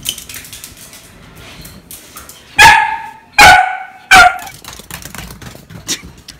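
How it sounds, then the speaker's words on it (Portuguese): A dog barking outside after being let out to run, three loud sharp barks about a second apart, close by, with quieter yips and rustling before and after. "Agora eu vou soltar esse cachorro aqui um pouco pra correr lá fora."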